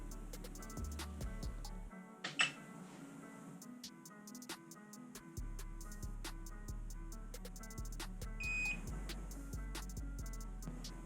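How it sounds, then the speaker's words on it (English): A BlackboxMyCar PowerCell 8 battery pack is charged at high amperage through a 16 AWG cable at 14.2 volts. Its charger gives one short, high electronic beep as it enters charging mode, over a steady background with scattered clicks. "Charge light has just come on and the beep occurred showing it's going into charging mode"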